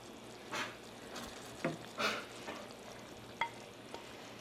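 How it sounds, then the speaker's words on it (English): Chicken is pressed down into a pan of sauce for Marry Me Chicken, giving soft, scattered sizzles and a few brief scraping stirs over a quiet, steady frying hiss, heard close. "we're gonna nestle that chicken right down into this sauce"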